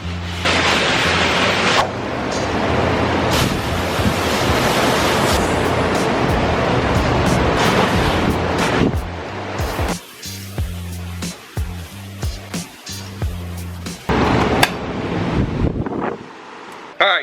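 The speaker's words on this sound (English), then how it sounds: "so I'm just kind of rinsing it off really quick." A garden hose sprays water while rinsing out the bed of an LS-swapped S10 pickup truck in a backyard, a loud steady hiss that runs for several seconds before breaking into spattering bursts.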